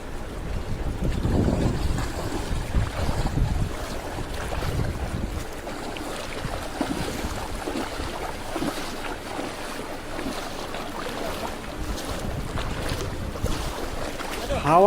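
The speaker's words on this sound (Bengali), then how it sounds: "হাওয়াও চলে, জম্মের হাওয়া" Strong wind buffets a fishing boat out at sea, a constant gusting roar mixed with water wash and microphone buffeting, louder near the start and swelling again at the very end.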